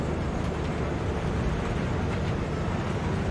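Steady, loud rumbling roar of a big fast-moving train in the video game Cyberpunk 2077, continuous and even throughout with no talking.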